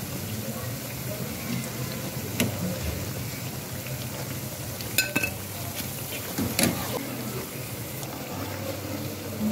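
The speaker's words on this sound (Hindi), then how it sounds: "मीडियम फ्लेम पे इनको फ्राई कर रहे थे और पलट भी लिया था" Onion and spinach pakoras fry in oil on medium flame with a steady, soft sizzle, broken by a few sharp metallic clinks of a utensil against the pan.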